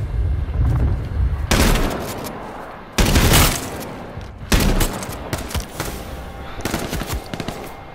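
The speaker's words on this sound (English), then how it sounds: "Oh god, it's freaking burst fire!" Burst-fire gunshots in the battle royale game H1Z1, loud clustered volleys of rapid shots arriving in several separate bursts with brief gaps, close and aggressive.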